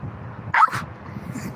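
A person imitates a dog's bark with a single short, close vocal yap, surrounded by low background hum.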